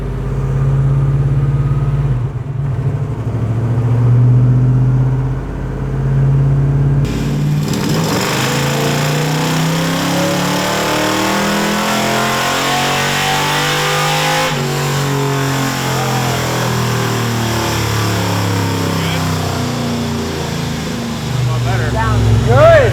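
A 6.4 HEMI V8 revs hard on a chassis dyno with fans running, building from a loud low idle into a long sweeping rising roar that fills the space.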